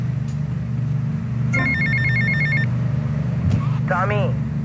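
A telephone in the video game GTA Vice City rings once in a short electronic burst over a steady engine drone, followed by a few brief chirping tones.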